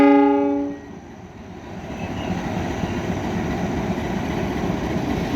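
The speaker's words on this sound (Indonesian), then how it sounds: "Lokomotif kembali menuju ke depo lokomotif." A train horn blasts briefly at the start, then a steady rumble of a locomotive rolling along the tracks toward the locomotive depot continues, loud and close.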